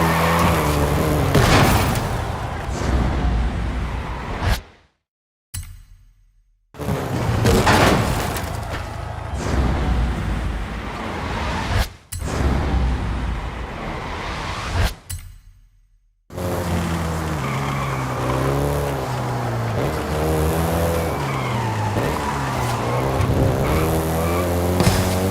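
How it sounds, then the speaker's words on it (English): A Volkswagen Golf GTI in Forza Horizon 5 drives hard with a continuous engine roar and tire squeal, rising and falling through gear changes, broken by a few abrupt silent cuts. "including the Golf GTI you're driving right now"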